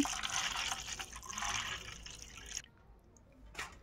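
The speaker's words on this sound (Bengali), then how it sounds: "তো প্রথমে জল দিয়ে দিলাম।" Water is poured over small cut chicken pieces to wash them, giving a close, splashing, running sound for a couple of seconds. It stops, and then a brief splash follows.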